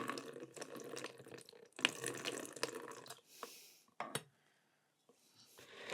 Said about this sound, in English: let's just pour a bit of water down here and see what happens